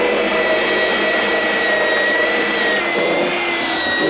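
A roller sander runs steadily against a foam jig former for fiberglass work, giving a loud continuous whirring hum with a steady abrasive hiss close by.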